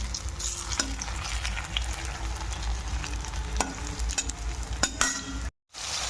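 Fritters of leftover batter fry in a hot wok outdoors, a continuous close sizzle broken by sharp clicks of stirring and a brief dropout near the end.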